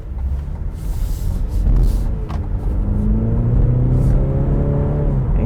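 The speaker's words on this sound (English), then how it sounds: "engine got some oomph to it. It's got some juice to it. It's very zippy." A 2020 Cadillac CT4's engine revs up and accelerates, a loud, close rumble rising steadily in pitch as the motor pulls harder.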